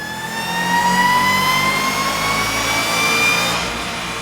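A 2014 Shelby GT500 V8 on a dyno pull, a loud rising engine roar climbing steadily in pitch and holding near full power for several seconds.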